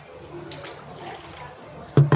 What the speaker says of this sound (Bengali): একটু জল দেবো